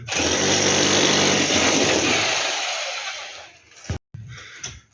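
A loud, harsh power cutter grinds steadily for about four seconds while cutting grooves in a wall of a new house, then winds down and cuts out, followed by brief scraping noises.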